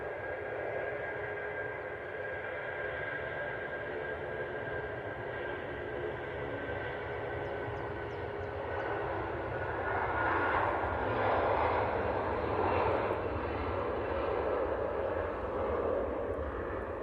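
An Airbus A380 airliner taxiing past very close, its engines a loud, sustained roar and whine that swells slightly as it passes and then holds steady.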